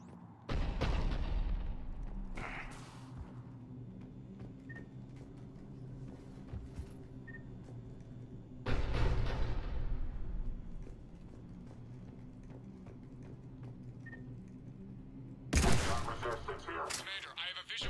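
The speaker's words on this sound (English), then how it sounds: "The cannon fire is clearing the way." Cerberus cannon fire in the Mass Effect 3 video game lands as heavy booming blasts, three big explosive bursts spaced several seconds apart over a continuous rumbling battle din, with speech mixed in.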